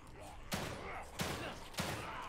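Gunfire in the video game The Evil Within 2 cracks out as three sharp shots spaced roughly evenly over a couple of seconds, fairly quiet over a low background.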